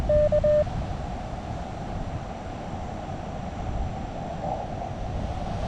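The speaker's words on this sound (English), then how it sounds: "But with nothing to stop that wind coming across the lake," Steady wind rushing across an open lake, a broad constant roar with no voices, holding at the same level throughout.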